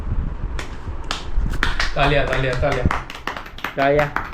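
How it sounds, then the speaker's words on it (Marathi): A few sharp hand claps ring out near and loud among lively talk and laughter from a group of friends, with scattered single claps and short bursts across the moment. "टाळ्या"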